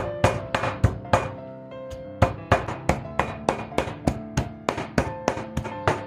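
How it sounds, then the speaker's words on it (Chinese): A kitchen knife chops repeatedly through a slab of mostly lean pork with a little fat on a cutting board, mincing it for soup dumplings. Sharp, close knocks land in an irregular, fast rhythm against a faint steady tonal background. "肉片切好以后呢，我们直接用刀剁就可以了"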